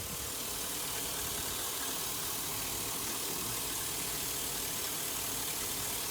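A Chevrolet El Camino with an LS-swapped 5.3-litre V8 idles steadily just after starting, a low continuous rumble with a broad hiss, no voices.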